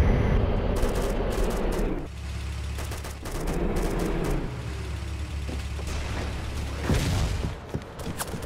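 Enemy gunfire in the military shooter Arma 2 Operation Arrowhead, scattered shots and bursts over rumbling engine and battlefield noise, with a couple of sharper, louder cracks toward the end.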